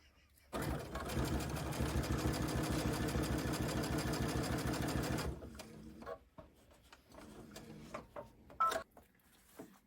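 A Babylock Aerial embroidery machine stitches an in-the-hoop wallet made of quilter's cotton, running in a steady, fast, rhythmic chatter for several seconds before stopping, then giving way to quieter intermittent clicks and handling sounds.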